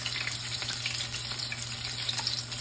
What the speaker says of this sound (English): So I am going to wash it.